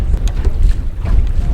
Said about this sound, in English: Let me tell you, it is howling today.